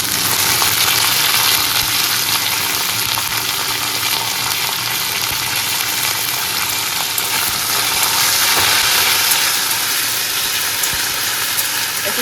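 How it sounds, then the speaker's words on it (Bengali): Curry leaves and peanuts fry in hot oil in a kadai, giving a loud, dense, unbroken sizzle close at hand with faint stirring beneath and no voices. "এর মধ্যে আমি কারি পাতাগুলো দিয়ে দেবো"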